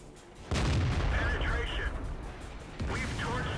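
A German heavy tank's 105mm gun fires in the World of Tanks video game, two heavy booming shots with rumbling tails about two seconds apart, loud and close under a commentator's voice.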